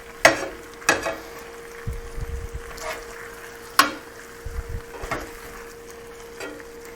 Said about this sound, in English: now we'll brown this side